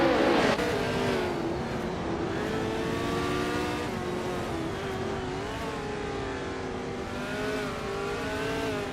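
Race car engines from a racing video game, including a classic 1966 McLaren M10A, roar continuously with rising and falling revs and layered engine tones, loud and steady throughout without talk.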